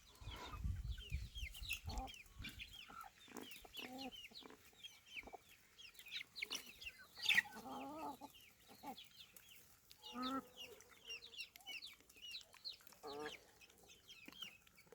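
Crossbreed coop chickens cluck and chatter steadily at moderate distance while being fed, with a rooster's calls mixed in and occasional louder squawks among the flock.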